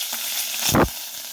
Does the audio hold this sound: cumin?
yes